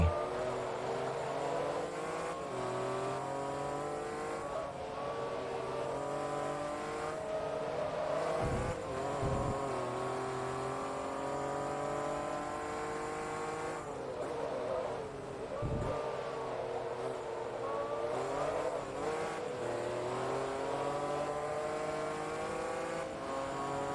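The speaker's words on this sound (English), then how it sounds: "I can't get over how over the top the screaming engine is on the Carrera GT." A Porsche Carrera GT in the racing game Forza Motorsport 2 screams at high revs around Mugello, its engine pitch climbing and dropping through repeated upshifts and downshifts, loud and continuous for the whole stretch.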